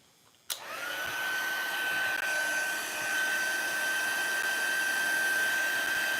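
A heat embossing tool for rubber stamping switches on abruptly and blows hot air with a steady whirring hiss and a thin whine, running loud and unbroken for several seconds.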